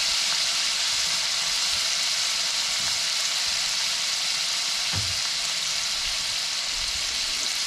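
Tilapia with tomatoes and soy sauce sautés in a hot pan, giving a steady, even sizzle that crackles continuously, close up and with no voices.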